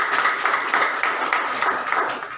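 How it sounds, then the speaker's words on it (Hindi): A church prayer-meeting audience claps to welcome a first-time visitor, a brief, moderately loud patter of rhythmic hand claps from a small group, with no talking over it. "हम इनका तालियों से स्वागत करेंगे सत्यनारायण"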